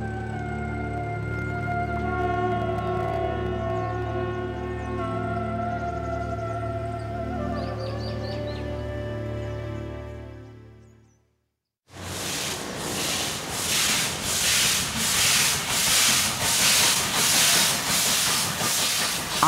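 A train passes steadily with a humming engine tone, fades to near silence, then wheels beat out a loud, regular clickety-clack rhythm up close.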